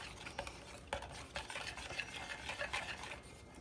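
Oat muffin batter being mixed by hand in a bowl with a spoon, giving a steady run of soft, wet scraping and stirring strokes, close and moderately loud, with a few sharper utensil knocks against the bowl.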